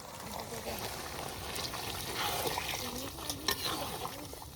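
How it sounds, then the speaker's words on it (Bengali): Water pours and splashes into a pot of fried meat with a gurgling, trickling wash that swells midway and ends with a few clatters, close by at an outdoor family picnic. "মাংস কাশানো হয়ে গেছে এখন জল দিয়ে দেবো"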